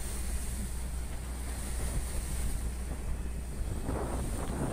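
High ocean waves pound a Taiwanese fishing boat during a storm at sea, a steady roar of surf and wind buffeting the microphone, with heavier sloshing surges near the end.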